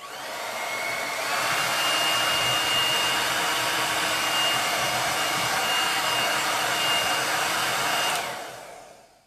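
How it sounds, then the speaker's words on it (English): A blow dryer whirs loudly and steadily for several seconds, a constant airy roar close by, then switches off. "I am just going to take my blow dryer here and excuse the noise."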